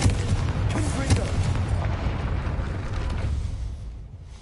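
A Confringo blasting spell from Hogwarts Legacy, a heavy rumbling boom with crackling debris right at the start that rolls on loudly before fading out over the next few seconds.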